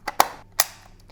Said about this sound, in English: Shutter fires.